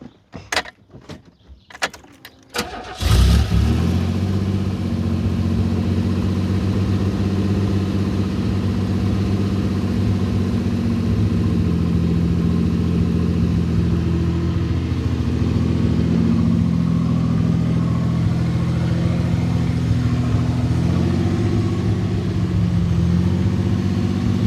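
A car with an idle problem cranks briefly through a few clicks, then catches and settles into a steady, close, rumbling idle that carries on for about twenty seconds without talk.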